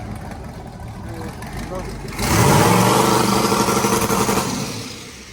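Chevy Tahoe with a twin turbo kit revving against a two-step limiter near 3,200 rpm, the engine rising suddenly from a rough idle to a loud, sustained buzzing roar, with a person talking over the idle.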